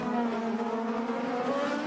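IndyCar race cars braking into turn 3 on the 2019 Toronto street circuit, a loud, steady, close engine drone with a strong tonal whine, heard alone.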